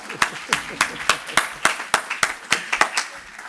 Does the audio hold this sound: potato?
no